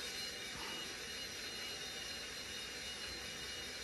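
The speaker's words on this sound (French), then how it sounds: "On voit là le turbo qui est là, qui est allumé. Et voilà, juste le temps de le démarrer." A Rapido model turbo train under DCC control starts up with a steady, faint turbine-like whine and hiss that holds evenly throughout, without voices.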